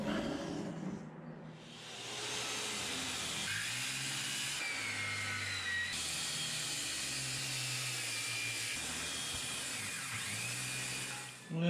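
A small bandsaw cuts through ash wood in one long, continuous, close buzzing whine, the pitch shifting slightly as the blade works through the piece before it stops at the end.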